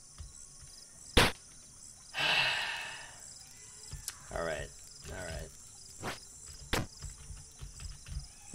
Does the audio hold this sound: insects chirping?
yes